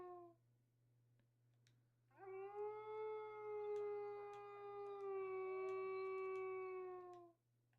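A war dog in a video game lets out a long, loud, steady howl lasting about five seconds, preceded by a shorter, fainter howl, with no talking over it.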